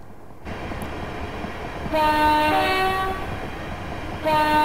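A Class 375 electric train runs with a steady rolling rumble in the Train Simulator Classic game. Two loud two-tone horn blasts sound, the second brief and coming at the end.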